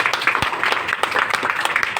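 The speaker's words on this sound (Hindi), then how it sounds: "जोरदार तालियां" A crowd bursts into loud, energetic applause, rapid overlapping claps sustained for a couple of seconds.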